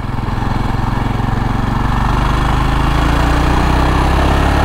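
A 2024 Jawa Perak 350 motorcycle engine running at low revs gives a loud, steady, thumping tractor-like chug that holds evenly throughout and has no talk over it.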